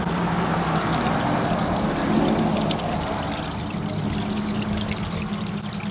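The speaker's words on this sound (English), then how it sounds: "You can see the water kind of just seeping off the sides there." Water from a newly installed garden water feature seeps and trickles steadily over its sides, a constant close wash of flowing water with no voices.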